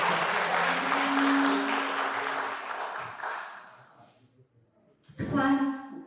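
Audience applause welcomes a speaker at a Megrelian-language poetry competition, a dense clapping wash with a voice over it that gradually fades away, then a brief spoken phrase near the end.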